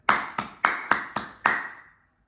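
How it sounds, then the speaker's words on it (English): Five sharp, ringing hand claps land in an even rhythm, close and loud, with the last ringing briefly into silence. "Clap."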